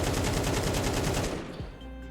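Rapid automatic gunfire in the video game Counter-Strike 2, a loud burst of rhythmic shots for over a second that then stops, leaving a faint tail.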